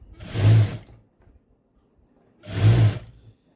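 A sewing machine stitches a hemming strip onto a blouse in two short bursts of whirring motor, each about a second long, separated by a quiet pause, close by.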